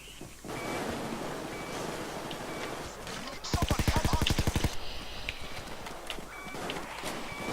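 Rapid automatic gunfire from the video game Payday 2, a dense burst of about a second over a constant, busy game background, with players talking.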